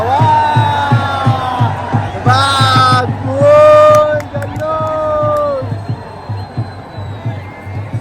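A large crowd celebrates a World Cup win on Marine Drive, loud whoops and shouted cheers rising over dense babble, with a horn-like tone near the middle.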